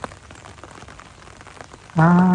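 Heavy rain pours down steadily through a stormy night in Thailand, a dense even hiss for about two seconds before a loud, sustained tonal sound abruptly cuts in at the end.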